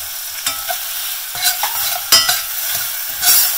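Chopped tomatoes and turmeric hit a hot pan for cumin pepper rasam, giving a steady close sizzle broken by several sharp scraping stirs of a utensil against the pan.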